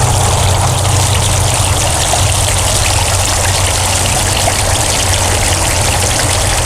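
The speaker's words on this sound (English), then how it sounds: "A lot of water streaming over those rocks, so you get a lot of sound off of that." Water streaming over stacked stones in a five-tier pondless waterfall, a loud, continuous splashing rush close by with no break.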